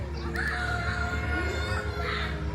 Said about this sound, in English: apologies for the screaming in the background